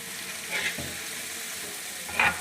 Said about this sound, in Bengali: আমি আজকে পেঁয়াজের কলির সাথে ডিম ভাজি করিলাম